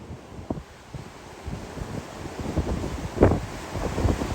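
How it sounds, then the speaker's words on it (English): Waves break at Clearwater Beach as Hurricane Helene passes, with wind buffeting the microphone and surf surging in uneven pulses that build toward a louder crash, no talk. "You see the waves actually building."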